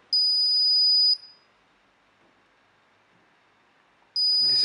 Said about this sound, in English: This is an entry delay, which causes alarm only after 10 seconds with entry.